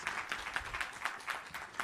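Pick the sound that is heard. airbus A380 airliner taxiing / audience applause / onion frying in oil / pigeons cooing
audience applause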